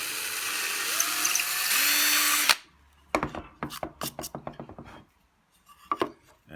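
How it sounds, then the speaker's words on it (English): A power drill whining loudly as it bores a 6mm hole into a ceiling for a timber beam pendant light, its pitch shifting as it runs, then a burst of rattling taps and knocks after the motor stops. "just drill a 6mm hole or a 1/4 inch hole into the ceiling"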